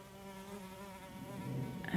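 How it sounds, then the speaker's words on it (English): Many bugs buzzing outdoors at a western camping spot, a dense steady drone of insect wings close by that grows a little louder toward the end, with no voices. "So you can actually hear these bugs."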